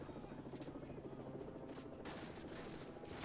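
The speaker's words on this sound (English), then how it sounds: "I'm gonna just shoot everybody inside the church" Gunfire inside a church in MW3, faint bursts of automatic weapon fire against a low, rumbling helicopter-like drone, with several short crackling volleys spaced across a few seconds.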